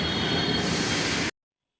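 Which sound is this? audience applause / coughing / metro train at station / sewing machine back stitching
metro train at station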